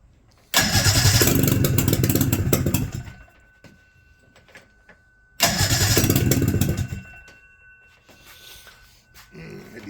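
A 1976 Attex ST400 Chief 6x6 amphibious vehicle engine cranks and catches in two loud, close starting attempts, each running briefly before dying back to quiet.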